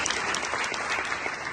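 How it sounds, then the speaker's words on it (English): Applause from a conference audience of doctors at a summit welcome, a dense, even crowd clapping that holds steady for the whole stretch with no voices over it. "So I'm going to clap it up for y'all."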